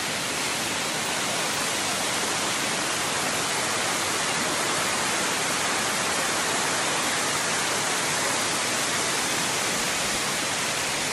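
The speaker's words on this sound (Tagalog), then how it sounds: "Ganda ng falls." Kaparkan Falls in Abra roars in a dense, constant rush of white noise, loud and close, with no voices and no change throughout.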